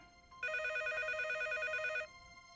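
A telephone rings once with a steady electronic warble that starts abruptly, holds for about a second and a half, then cuts off, fairly near against a quiet room background.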